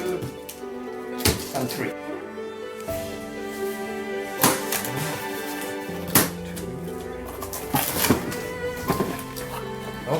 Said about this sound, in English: Okay, I'm going to cut this one.